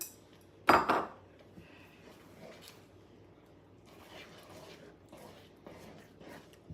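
Chipped beef stirred into a cream sauce in a pan, opening with one loud metallic clank of utensil on pan, then quieter intermittent spoon scrapes and clinks.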